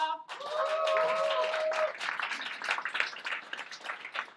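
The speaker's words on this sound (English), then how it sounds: "So big applause to Jaanika." A crowd at a tech meetup claps steadily, a dense wash of applause rising quickly and then thinning out toward the end, with a few voices underneath.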